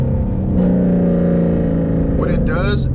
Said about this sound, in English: I'll rev it to 7, all the way to 7K and get locked out